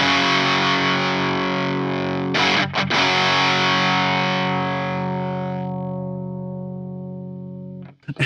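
Electric guitar through a Lichtlaerm Audio Total Distortion Worship mk2 distortion pedal, set with some highs cut and a honky midrange, sustains a loud, thick distorted chord that rings out and slowly decays, then a brief restrike at the end.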